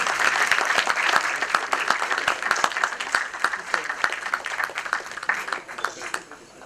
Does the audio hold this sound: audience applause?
yes